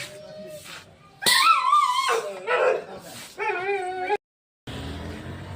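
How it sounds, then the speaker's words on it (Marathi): A puppy yips and whimpers in short, high, wavering cries close by, broken by pauses, with people talking around it. "हा पप्पी डॉग आहे नाही का?"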